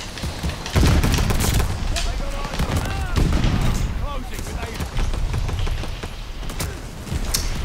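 Rapid gunfire in Call of Duty Vanguard crackles in bursts and sustained strings of shots over several seconds, loud and close, while a player talks excitedly over the shooting.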